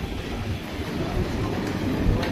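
A train pulls into Saumur station in France, giving a steady, close, moderately loud rolling rumble of wheels and carriages with no clear talk.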